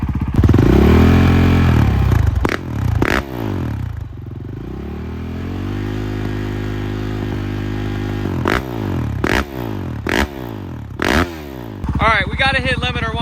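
A Honda CRF450RL dirt bike engine revs hard, rising and falling in pitch, then settles into a lower idle before several sharp throttle blips; a voice speaks briefly.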